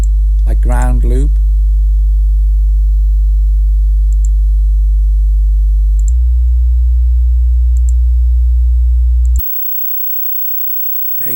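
A ground-loop mains hum from a lo-fi plugin, a loud, steady low buzz that changes tone partway through and then cuts off abruptly, with a brief chirp near the start.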